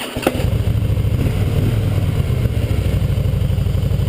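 A Harley-Davidson Fat Boy Special motorcycle engine idles close by with a steady, loud, lumpy low throb, after a brief sharp clank at the start.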